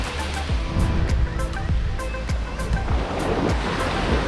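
Sea waves wash onto Esmeralda beach, a wild stretch in a bay in the Dominican Republic, with steady surf roar and repeated soft breaking swells under light wind, close and fairly loud with no talk.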